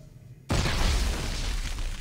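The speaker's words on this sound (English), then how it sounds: "Can I hurt you by shooting a missile launcher at you, or no?" A missile launcher shot in a video game bursts into a sudden loud explosion after a short quiet moment, then rolls on as a broad sustained roar of debris and rumble, close and with no talking.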